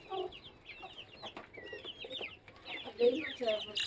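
Backyard chickens, hens and a young rooster, cluck close by in busy, overlapping bursts at fairly low loudness, with quiet talk at moments.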